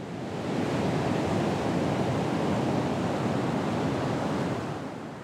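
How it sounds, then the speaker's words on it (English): Ocean waves on a shore, a steady broad wash of surf roaring continuously, fairly loud and close, with no voices. "I hear the waves. The waves feel like breathing in and out."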